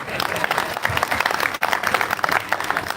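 An audience claps loudly and densely at a Jain religious ceremony, a busy rattling applause that runs on with a brief dip midway, a voice faintly mixed in.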